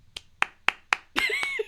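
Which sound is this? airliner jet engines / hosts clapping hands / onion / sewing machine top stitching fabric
hosts clapping hands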